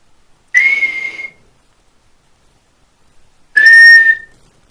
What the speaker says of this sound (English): Kawaii just whistled.